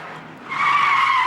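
A car skids through a handbrake turn on a driving-test course, a short loud tire squeal that rises sharply halfway through and holds steady.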